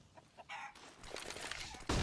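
Chickens cluck on the Inferno map in CS:GO during a Virtus.pro vs Heroic esports match, short clucks mixed with game noise, movement and a burst of gunfire near the end.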